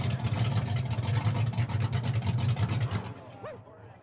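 A Max Wedge muscle car engine at a car auction rumbles loud and steady for about three seconds, then cuts off abruptly, leaving faint room sound.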